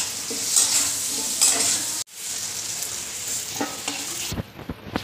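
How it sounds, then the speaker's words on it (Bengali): Onions lightly frying in a pan, a steady close sizzle with intermittent stirring scrapes, a brief cut near the two-second mark, and a few sharper utensil knocks toward the end. "এগুলো হালকা করে পেঁয়াজগুলো ভেজে নিয়েছি"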